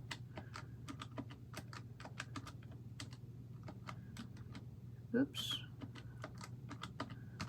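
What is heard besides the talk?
typing on a calculator with long nails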